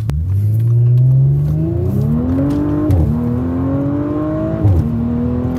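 Tuned Audi S5 B9 with a 034 Motorsport Stage 2 tune, engine revving up hard through the gears, loud and close, with pitch climbing and dropping sharply at each upshift.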